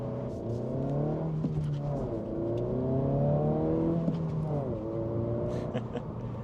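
A 2025 Honda Civic Si or Hyundai Elantra N-Line pulls under throttle, its engine note climbing in pitch through rising gear sweeps with a brief dip between them, heard steadily from inside the cabin over road noise.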